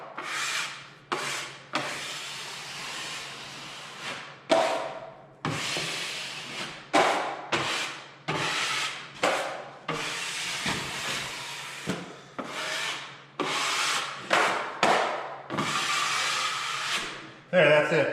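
Wide drywall knife scraping excess joint compound off fresh tape on a wall, a repeated series of rasping strokes with brief pauses between them.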